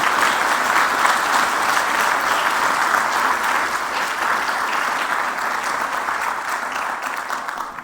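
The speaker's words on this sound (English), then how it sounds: "let's give the Army Chiefs and Commanders a round of applause" A conference audience gives sustained, steady applause for Army Chiefs and Commanders at a Nordic army summit, dense clapping throughout with no voices over it.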